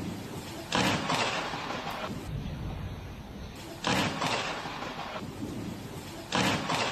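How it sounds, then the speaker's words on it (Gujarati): Thunder from lightning striking a lighthouse at Mandvi in Kutch during heavy rain: a steady roar of rain broken by three sudden loud cracks and rumbles, fairly close. "વરસાદી માહોલ વચ્ચે કડાકા સાથે વીજળી આ દીવાદાંડી પર પડે"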